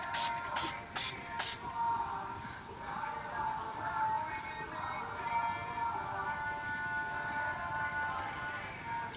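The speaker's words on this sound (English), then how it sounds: "I'm going to take my Urban Decay All Nighter Makeup Setting Spray and spray my face" Four quick, crisp spritzes of Urban Decay All Nighter makeup setting spray hiss in a fast row at close range, then fade into faint room noise.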